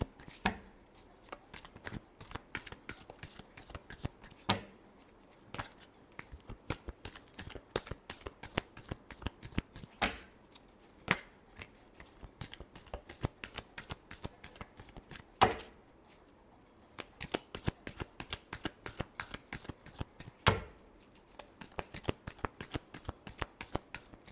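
Tarot cards shuffled by hand in a rapid run of crisp riffling slaps and flutters, steady and close, with a few sharper snaps and no voices.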